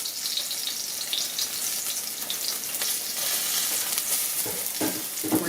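Smashed baby potatoes frying in a pan make a dense, steady sizzle close by, with a few sharper spatters and bursts near the end.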